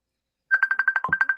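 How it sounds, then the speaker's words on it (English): Mobile phone ringtone ringing, a loud rapid pulsing electronic tone repeating about a dozen times after a short silence, alone with no talk. "Is that somebody's phone ringing?"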